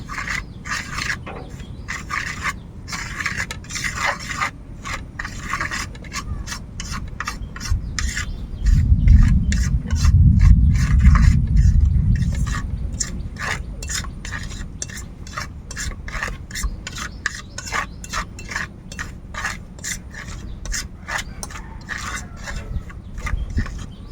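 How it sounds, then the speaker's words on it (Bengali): Eggplant slices being mixed by hand with semolina, gram flour and dry spices, a steady rubbing and stirring rasp throughout, close and moderately loud, swelling heavier for a few seconds midway, no voices. "এবার এগুলোকে একটু ভালো করে মিশিয়ে নেব"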